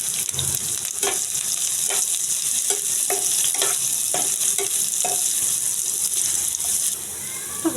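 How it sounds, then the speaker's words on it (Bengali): Chopped onion with a little minced garlic and a few green chilies fries in a pan, a steady loud sizzle broken by regular scraping strokes of a spatula stirring it, with no one talking. "আমি পেঁয়াজটাকে বেশি ভাজবো না"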